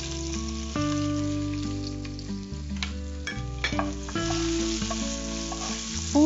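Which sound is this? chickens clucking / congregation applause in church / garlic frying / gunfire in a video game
garlic frying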